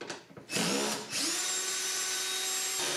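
A power drill whirs loudly and steadily while backing screws out of the windshield on a Ski-Doo XM snowmobile, with a short burst and brief pause before a long sustained run, close to the microphone and no talking.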